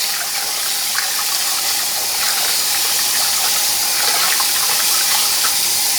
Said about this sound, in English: Wash your rice 3 times.